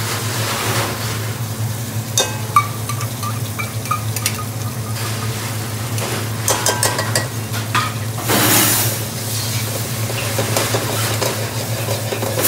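Tomato puree with spices cooks over medium heat in a pan for lamb bhuna, giving a constant sizzle with stirring scrapes and occasional utensil clinks against the pan.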